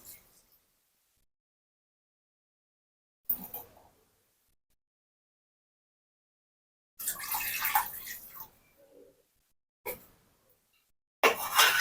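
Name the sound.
water poured into pot for prawn biryani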